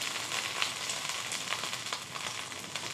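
Polenta fingers browning in butter in a pan give a steady, soft, even sizzle that carries on alone without pause.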